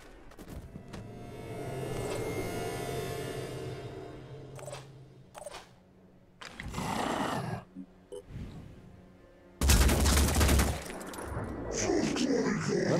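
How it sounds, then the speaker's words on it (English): Gunfire in the strategy game Phoenix Point comes as several sharp shots, ending in a loud, sudden burst near the close, with a low hum and only brief voices around it. "Preparing to fire."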